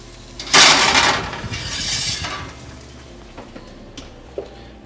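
A pan clinking as roast pork comes out of an oven, a loud rattling scrape and clatter of metal up front, then fading clinks and a few light taps.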